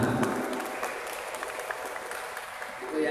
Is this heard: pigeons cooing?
no